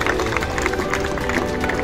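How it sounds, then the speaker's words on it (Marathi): An audience at a school Republic Day celebration claps to welcome the secretary and teachers, producing dense, steady applause that fills the room continuously throughout. "त्यांचं या ठिकाणी आणि शिक्षकाचंही टाळ्या वाजून स्वागत करतोय मी"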